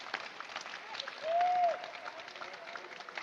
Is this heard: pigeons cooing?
no